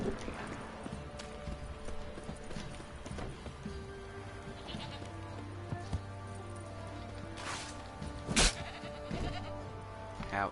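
A goat bleats in the video game The Witcher 3: Wild Hunt, a short nasal call over a steady bed of game ambience with hoof clip-clops and distant farm animal noises.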